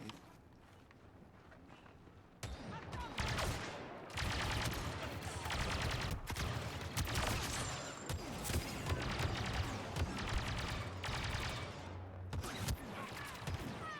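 Dense blaster and rifle fire from a Star Wars Battlefront 2 battle, with rapid bursts layered over a constant din of combat. It starts quieter, then turns loud and sustained, with no pauses.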